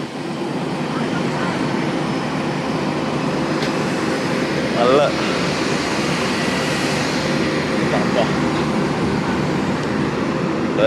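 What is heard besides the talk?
passenger aircraft on the airport apron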